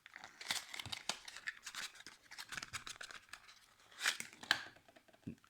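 Plastic packaging around a box mod vaping device's USB charger cable being torn and crinkled open, a close run of irregular crackles and rips with a couple of louder snaps, no speech.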